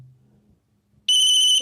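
An Ericsson T10s budget GSM mobile phone from 1999 sounds its medium ring type: a bright, steady electronic tone switches on abruptly and holds loud, close and alone for about half a second after a brief quiet hum.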